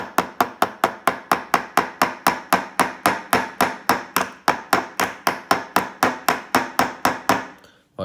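A hammer beats steadily on the hard plastic shell of a toy archaeology dig kit, giving a fast, even series of about thirty sharp, close knocks that stops abruptly at the end, with no voices.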